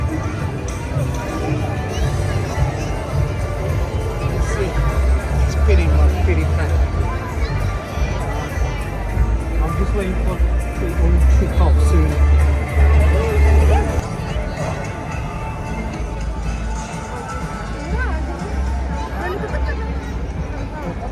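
Packed crowd waiting at the Dubai Mall fountain near the Burj Khalifa, a steady babble of many voices and footsteps all around, close and constant, while one person talks nearby over the murmur.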